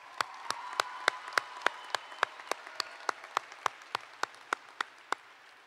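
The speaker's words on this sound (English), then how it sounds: "Everyone give a round of applause for Macal one more time." Applause from a group at a high school class of 2020 graduation, with sharp claps landing in a steady, regular rhythm, fairly close and clear, and no talking over it.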